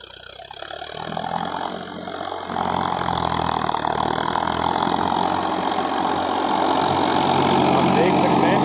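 A Farmtrac 60 PowerMaxx tractor engine runs steadily while pulling an 8x8 harrow through a field, a loud, continuous mid-range drone that swells slightly after the opening seconds and holds throughout.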